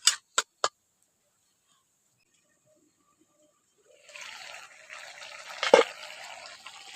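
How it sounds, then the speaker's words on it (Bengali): An egg and yardlong bean curry with spice-paste water in a pan begins to boil: a few sharp clicks, a pause, then a soft steady bubbling hiss. No one speaks. "এখন তরকারিটা বেশ ফুটতে শুরু করে দিয়েছে"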